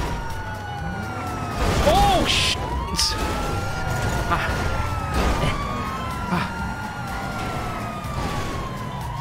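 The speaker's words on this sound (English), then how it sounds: "Is that a police car?" A wailing police car siren in GTA 5 sweeps up and down repeatedly under traffic noise and game music, with a brief sharp whoop early on; a man exclaims over it.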